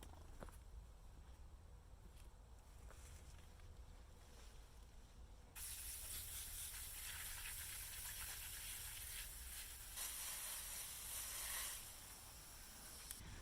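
Water sprays steadily to rinse dirt from the roots of a pepper plant, a soft hiss that suddenly grows louder and brighter midway and keeps running.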